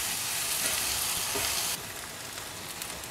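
Bitter gourd sautéing in a pan gives a continuous close sizzle and hiss that drops a little softer partway through, with no voices.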